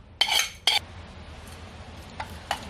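A spoon clinks against a cooking pan while stirring potato masala for poori, with two sharp metallic scrapes close up followed by a few fainter taps over a quiet background.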